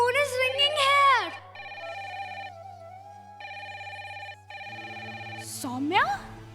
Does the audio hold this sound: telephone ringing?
yes